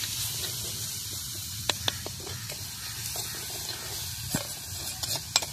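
Tomatoes with salt sautéing in a clay pot for vermicelli, a soft steady sizzle with a few sharp clicks of a spoon against the pot, fairly quiet.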